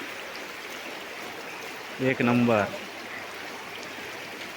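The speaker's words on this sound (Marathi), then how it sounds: "अन्नपूर्णा नदी म्हणतात कधीच आटत नाही बाराही महिने असता" The Annapurna river flows as a steady, soft rushing stream throughout, with someone briefly speaking over the water.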